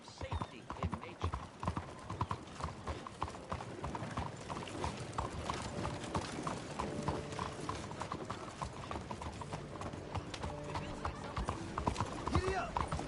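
Horse hooves clip-clop at a brisk, even trot in the Red Dead Redemption 2 game, steady and close, with voices talking over the hoofbeats.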